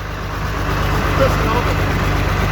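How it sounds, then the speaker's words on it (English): International 756 tractor with a big turbo, its engine a steady low rumble close by as the turbo slowly builds, with a faint whine over the drone and no sharp change. "Takes a while for that turbo to spool up. It's a big turbo."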